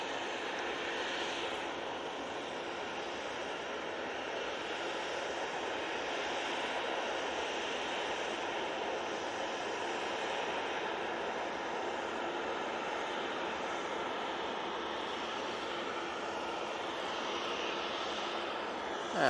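A distant Etihad airliner taxis at Manchester Airport, its engines giving a steady, even whine and rumble that holds at the same level for the whole stretch without voices.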